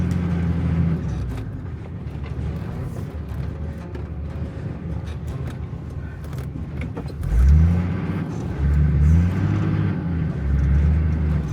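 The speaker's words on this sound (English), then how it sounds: "As I accelerated to go uphill, the cruiser was sliding backwards down the mountainside." An almost 3-ton Toyota Land Cruiser stuck on an uphill mountainside off-road track, its engine droning loud and steady, then surging into revs near the end as the tyres spin and the vehicle slides back.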